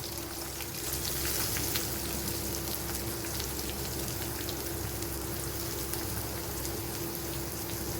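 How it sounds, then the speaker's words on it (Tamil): Onions frying in a pan for prawn masala give a steady, even sizzle, continuous and moderately close, with no talk. "பாருங்க, வெங்காயம் நல்லா வதங்கி வந்துடுச்சு"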